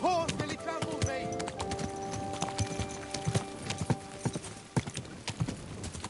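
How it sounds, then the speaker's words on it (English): Horse hooves clip-clop steadily on hard ground in the medieval game Kingdom Come: Deliverance, close and fairly loud, with a brief whinny near the start and shouting voices over the hoofbeats. "Your horse nearly trampled me!"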